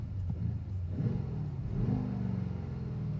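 BMW X6 M Competition SUV engine revving hard inside the cabin, a loud rumbling exhaust with no rev limiter, rising in pitch in two steady surges and holding a droning roar throughout.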